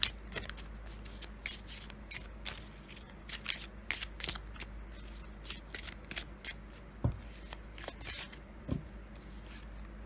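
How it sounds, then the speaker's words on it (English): Tarot and oracle cards shuffled by hand, a quick run of crisp riffling flicks and slaps at close range, steady and fairly quiet with no talking. "And we will draw also one of my cards."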